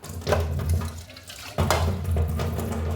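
Water splashing from a tap in two strong bursts as a pot that held boiled potatoes is rinsed, loud and close with a hollow metallic ring and no talking.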